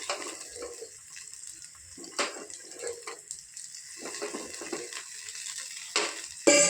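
Kitchen tap water runs steadily while something is washed for an egg and pea stir-fry, with intermittent splashing bursts against a constant flow.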